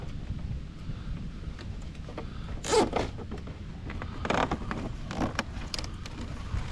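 A zip tie pulled tight around a young tree in a chestnut orchard in winter, a short ratcheting zip followed by a few more brief zips and creaks against outdoor wind noise, with no talking.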